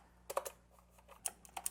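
Keys on a Royal Kludge G87 tenkeyless gaming keyboard are pressed in a quick irregular cluster of close, crisp clacks, then a few more taps after a short pause.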